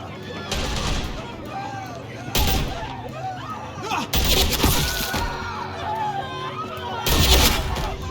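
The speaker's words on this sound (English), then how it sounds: "They're just shooting random people." Gunfire rings out in Telltale's The Walking Dead, several loud separate shots spaced a few seconds apart, with voices and tense background sound between them.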